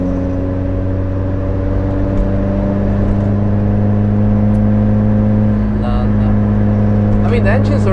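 A car engine idles steadily and loud throughout, with a deep constant hum, at a Nürburgring meet with a 997 GT2, Audi S3 and M3 around; no clear revving, and faint sounds near the end.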